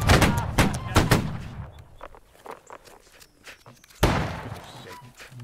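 Musket volley from a line of soldiers in the video game Holdfast: Nations At War, a loud ragged burst of overlapping shots up front, a quieter stretch of scattered pops, then a second sharp crack near the end.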